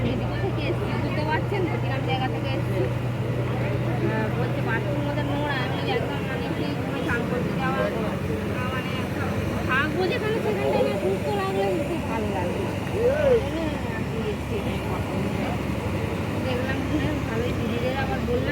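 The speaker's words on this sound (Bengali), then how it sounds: "লঞ্চটা ছেড়ে দিল আমরা সেপারে চলে যাচ্ছি লঞ্চ ছেড়ে দিয়েছে" A river ferry launch pulls away from the bank, its engine a steady low drone running throughout, with people talking over it.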